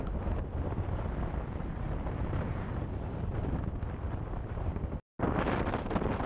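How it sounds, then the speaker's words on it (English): Strong wind buffets a GoPro microphone with a loud, continuous roar, broken by a brief dropout near the end. "In here it was getting so windy that my GoPro didn't get any sound anymore"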